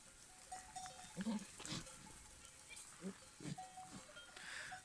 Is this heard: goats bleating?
yes